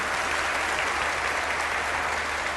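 A gospel event audience breaks into sustained applause for Peru, a dense, even wash of many hands clapping continuously at moderate level with no voice over it.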